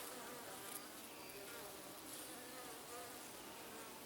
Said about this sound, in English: Just find it neat how there's so many bees just sitting there just waiting to get on with their day.